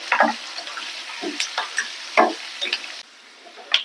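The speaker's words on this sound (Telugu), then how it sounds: "కట్ చేసుకున్న ఉల్లిపాయ ముక్కలు కూడా వేసుకొని ఫ్రై చేసుకోవాలి" Onion pieces with cumin and curry leaves frying in hot oil in a pan, with scattered crackles and sizzling pops and the scrape of stirring, close up and moderately loud with no talking.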